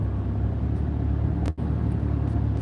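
A Jeep's engine rumbles low and steady while cruising at 45 mph, a constant road drone heard from inside the vehicle with one brief dip near the middle.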